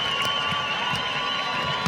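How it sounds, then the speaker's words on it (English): A crowd at a young-horse dressage championship applauds and cheers in a steady, continuous wash of clapping. "the applause has to come to an end"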